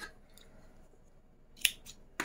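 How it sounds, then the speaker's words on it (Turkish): Scissors cutting knitting yarn up close, quiet at first, then a few sharp crisp snips near the end. "ipi kesiyorum."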